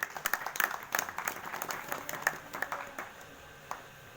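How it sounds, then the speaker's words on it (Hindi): Audience applause at a satsang religious gathering, a brief burst of scattered hand claps, fairly close, thinning out toward the end. "खड़े हो जाएं, जोरदार ताली बजा दीजिए।"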